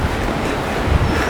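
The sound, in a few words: strong gusting wind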